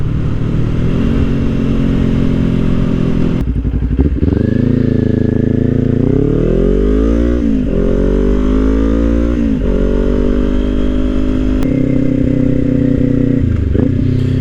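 Kawasaki Ninja 400 motorcycle engine droning loud and close throughout a ride, its pitch climbing and falling with repeated gear shifts and revs, plus some clatter and scraping noises.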